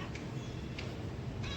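A cat gives a few short, soft meows spaced apart, faint and close against a quiet low background hum.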